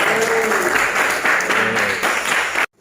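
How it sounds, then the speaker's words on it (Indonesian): Students in a vocational automotive class (TKR) clap together after a group presentation, a steady burst of applause lasting nearly three seconds before cutting off abruptly. "Aplaus."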